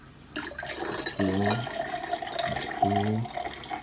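Water pours in two short bursts, a bright gurgling splash rising in pitch as a container fills, with a steady background hum.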